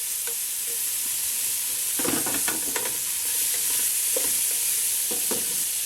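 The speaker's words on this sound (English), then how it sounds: "Meatballs are cooking, making some soup." Meatballs brown in a frying pan for Panang curry soup, with a steady close sizzle broken by clustered clicks and scrapes as they are turned.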